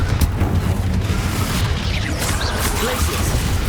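A Confringo fire-blast spell from Hogwarts Legacy booms in a dense, continuous rumble, with repeated low bursts packed close together amid game combat noise.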